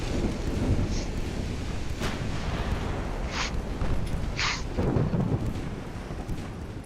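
Storm at sea in the naval battle game Ultimate Admiral Dreadnoughts: a steady roar of wind and rain, broken by several short, bright cracks and booms, likely gunfire or thunder, close and loud.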